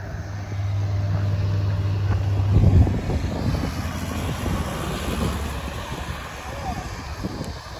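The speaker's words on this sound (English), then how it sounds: "Yep, that's an airplane." A small airplane passes overhead outdoors, a broad steady engine rumble with a low droning tone that swells briefly near the start and then holds, while people talk nearby.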